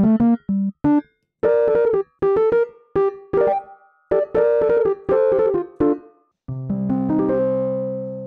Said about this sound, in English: Let's check out on an electric piano, Model T by Sampleson.